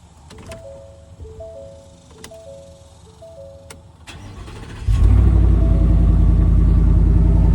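A 2025 Ford F-150 single cab gives several chimes and clicks before its engine cranks and fires, settling into a loud, steady idle rumble close by.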